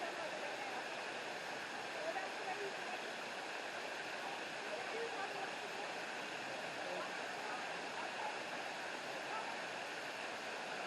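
A waterfall pours steadily, a soft even rush of falling water heard from some distance, constant and unbroken throughout.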